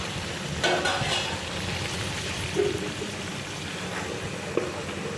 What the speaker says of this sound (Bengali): বেগুন দেওয়ার পরে আমি উল্টে নেবো তাহলে বেগুনটা আমার ভাজা ভাজা হয়ে যাবে মাছের সঙ্গে